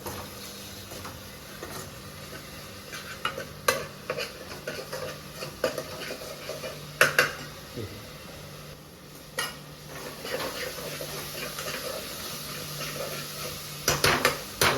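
A lid clinks down onto a pot of spiced gravy for prawn biryani, giving a few sharp metallic knocks and rattles among low kitchen clatter, with no voices.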